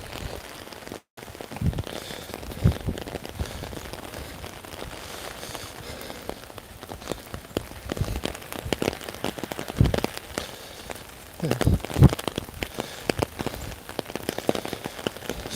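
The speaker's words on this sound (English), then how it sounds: "Well, you can tell the rain is picking up just a tad." Steady rain falls during Hurricane Ian in Beaufort, a continuous hiss over the whole stretch with a few sharper gusty bursts and thumps near the end, no talking.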